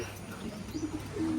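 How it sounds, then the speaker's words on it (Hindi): Pigeons coo softly at a farm just after being let out, a faint, low murmuring call that rises briefly near the end over quiet background. "कबूतरों को भी खोल देते हैं थोड़ी देर"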